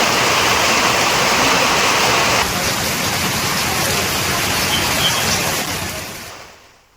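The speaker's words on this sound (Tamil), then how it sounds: "போடி, தேவாரம், கூடலூர், கம்பம் மற்றும் சின்னமனூர் ஆகிய பகுதிகளில் இடி மின்னலுடன் கூடிய கனமழை பெய்தது." Heavy rain pours in a steady, dense roar across the Bodi, Thevaram, Gudalur, Cumbum and Chinnamanur area, loud and continuous before fading out at the end; no distinct thunderclap stands out.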